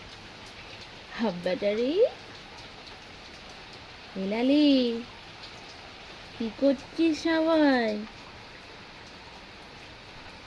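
Rain falls in a steady, soft hiss throughout, moderately faint, with a voice calling out in short bursts over it.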